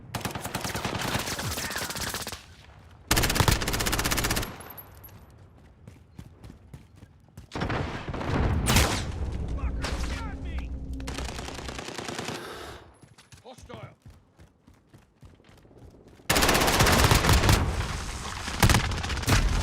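Automatic gunfire in a video game comes in several loud rapid bursts, split by short quieter gaps, with a final sustained burst at the end.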